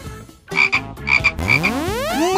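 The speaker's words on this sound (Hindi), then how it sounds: "या तो वो मेंढक है।" A frog croaks in loud, close bursts of raspy calls, two pairs of pulses followed by a longer rising croak, mixed with background music and sound effects.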